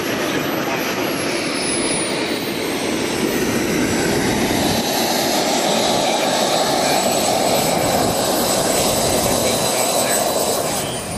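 Aerobatic aircraft engine at a 2011 airshow, a loud, steady roaring drone that holds at a constant level for the whole stretch, with no breaks.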